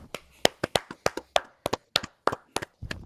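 A few people clap their hands in a loose, uneven rhythm. The claps are close, crisp and separate, about a dozen of them with short gaps between, and no one talks.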